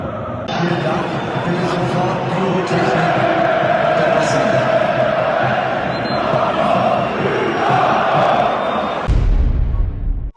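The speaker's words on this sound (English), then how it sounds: "What a crazy crowd!" A packed Borussia Dortmund football stadium roars with a dense, continuous wall of crowd noise, loud and steady throughout before cutting off abruptly near the end.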